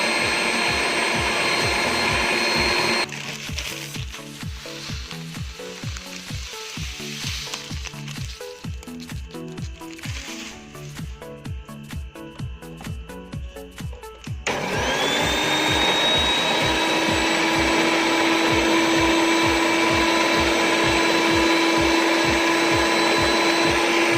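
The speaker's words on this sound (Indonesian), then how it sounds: "Ini kita blender kurang lebih 5 menit lagi biar gula pasirnya hancur" An electric mixer runs continuously, beating butter cake batter with granulated sugar in a steady, whirring drone that shifts in pitch and texture partway through and then settles into a smoother hum.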